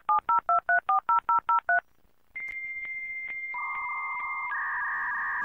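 A sequence of about ten rapid telephone dialing touch-tones sounds as a phone cable is plugged into a computer, followed after a short pause by steady, loud modem-style tones that shift pitch and continue to the end, with no talking.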